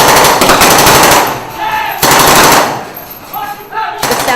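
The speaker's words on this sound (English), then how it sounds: "Sounds of war echo through the former World War II Japanese administration building on Tinian, but it's just a drill." Loud bursts of automatic gunfire from an Army National Guard versus Marines military drill echo inside a former World War II Japanese administration building on Tinian, with sharp rapid volleys separated by brief reverberant lulls.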